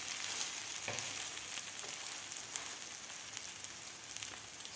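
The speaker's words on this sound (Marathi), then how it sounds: "तर खालची बाजूसुद्धा आपल्याला 2 मिनिटासाठी व्यवस्थित भाजून घ्यायची आहे गोल्डन कलर होईपर्यंत" An egg Maggi paratha fries in a hot pan, its underside browning: a steady, close sizzle with fine crackling, continuous and unbroken, with no talking.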